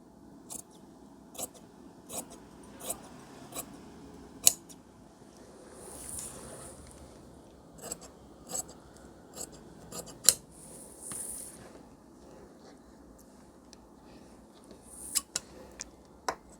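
Scissors cut blouse fabric along a marked neckline, giving a series of sharp, close snips spaced roughly evenly and sometimes in quick pairs, with faint rustling of cloth between them in a quiet room.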